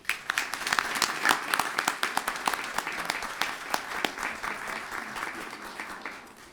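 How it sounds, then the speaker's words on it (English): A city council meeting audience gives a round of applause, with many hands clapping in a busy, crisp patter that swells early, then gradually thins and fades toward the end. "give them a round of applause"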